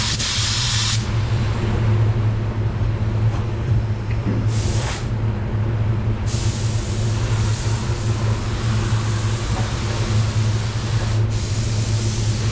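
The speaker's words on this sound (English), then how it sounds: "I'm using my Fuji spray MPV8 for the wet bed." A Fuji MPV8 spray gun lays a wet bed coat of PPG paint on a BMW, giving a steady, close, continuous hiss of atomized spray with brief gaps and bursts of stronger air, no talking.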